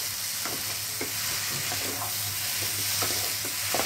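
Potatoes and pointed gourd fry in spiced oil for a potol aloo korma, with a close, steady sizzle and soft, regular scraping taps of a spoon stirring through the pan.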